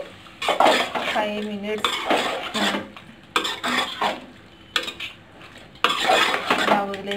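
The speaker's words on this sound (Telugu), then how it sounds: "పసుపు యాడ్ చేసుకొని కలిపేసి" A spoon stirs chicken curry with turmeric in a metal pot, making loud, repeated scraping and clattering strokes in bursts with short pauses between them.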